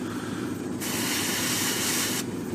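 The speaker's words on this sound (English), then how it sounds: "Just going to spray a bit of air around it and help it dry." An airbrush blows a steady hiss of air around freshly painted parts of a 1/72 scale X-Wing model. A faint background hum runs throughout, and the hiss starts and stops once, lasting under two seconds.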